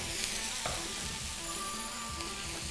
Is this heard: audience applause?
no